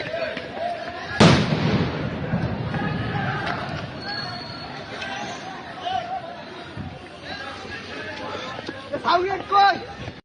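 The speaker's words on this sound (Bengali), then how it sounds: "একের পর এক সাউন্ড গ্রেনেড বিস্ফোরিত হচ্ছে" Sound grenades go off at night at Dhanmondi 32 amid unrest, with one sharp loud blast followed by smaller pops and bangs scattered through crowd chatter and shouting voices.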